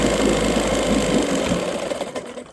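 A 1975 Johnson 9.9 hp outboard motor idles with a fast, even mechanical chatter and low hum, loud and close, then fades and thins out over the final second.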